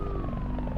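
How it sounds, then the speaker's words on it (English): A siren sound from the video game Pako 2 wails steadily with a slowly falling tone and a pulsing electronic character. It is heard alone, with no talk. "the siren sound will get on your nerves after a while"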